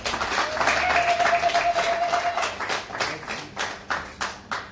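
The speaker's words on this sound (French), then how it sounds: "applaudissez pour le papa" Steady applause from a group at a civil wedding ceremony, a dense patter of clapping that thins toward the end, with a brief tonal whine early on.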